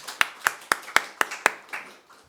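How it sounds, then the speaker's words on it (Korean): A church congregation claps in unison, seven sharp even beats about a quarter second apart, the last one softer, indoors and fairly close with no voices. "박수 한번 하겠습니다."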